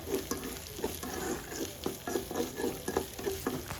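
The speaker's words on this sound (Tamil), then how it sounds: "இஞ்சி பூண்டு பேஸ்ட்டு லைட்டாக தட்டியாவது போட்டுக்கோங்க. நல்லா வந்து வதக்கிக்கலாம்" Ginger garlic paste sautéing in a pan for potato curry, a close sizzle broken by rhythmic scraping strokes of a spoon roughly twice a second, moderately loud with no voices.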